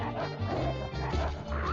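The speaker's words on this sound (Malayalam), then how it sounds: "ആരെ പട്ടി വിട്ടിട്ടുണ്ടല്ലോടാ?" Dog barking in the mobile shooter Call of Duty Mobile, a couple of sharp barks amid dense game noise and crashes, loud and close in the mix.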